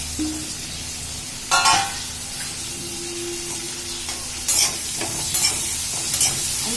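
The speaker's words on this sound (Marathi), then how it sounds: "चांगलं परतून घ्यायचं बटाट्यांना थोडा गोल्डन ब्राऊन कलर यायला पाहिजे असं परतून घ्यायचं" Mixed vegetables and potatoes for veg pulao being sautéed in a pan: a steady sizzle with a few louder bursts of stirring and scraping, up close and without talk.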